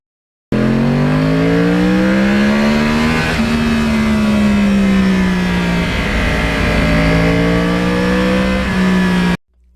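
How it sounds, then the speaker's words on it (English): A loud Yamaha R1 crossplane motorcycle engine revs steadily, its pitch climbing and falling across several throttle pulls, a continuous raw exhaust roar with no voices. "I love the exhaust note on this bike so much better"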